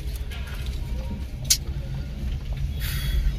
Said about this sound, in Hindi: यहाँ पे कुछ ज्यादा ही ट्रैफिक जाम लगा हुआ है